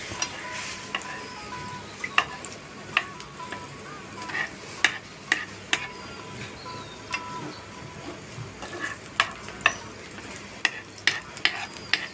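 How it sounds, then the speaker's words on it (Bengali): A batter-dipped egg fries in hot oil in a pan for a Noakhali-style egg pantua pitha, a steady close sizzle carrying sharp crackles and pops throughout, with no one speaking. "প্যানের মধ্যে যে গরমকৃত তেল রয়েছে সের মধ্যে দিয়ে ভেজে নিতে হবে"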